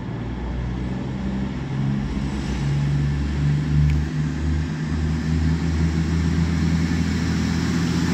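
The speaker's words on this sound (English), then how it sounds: "Now getting ready to depart is the cross-country Voyager from Bournemouth to Manchester Piccadilly." A CrossCountry Voyager diesel train bound from Bournemouth to Manchester Piccadilly idles at Stockport station with a loud, steady low engine hum and drone, tone rising slightly as it prepares to depart.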